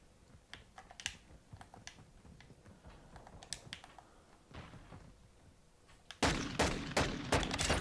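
Rapid broadband shots from the .50 GS pistol in the video game Modern Warfare 2, faint and scattered at first, then a loud, close burst of sharp cracks in the final seconds.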